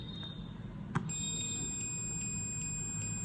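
Continuity tester beep while probing a circuit track on an ECU board: a click, then a steady high electronic tone sounding over a low hum.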